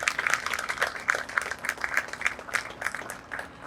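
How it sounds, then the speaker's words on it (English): Crowd applause at a 9/11 commemoration ceremony, a steady round of clapping from many hands lasting several seconds at moderate level, with no talk over it. "a big round of applause for Dr. Barraza for seeing this vision through."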